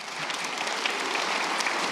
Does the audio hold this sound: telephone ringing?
no